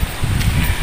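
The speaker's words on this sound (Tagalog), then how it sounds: "Lakas ng hangin mga idol." Strong wind gusting through a cemetery, a loud, steady low roar buffeting close to the microphone with no talking over it.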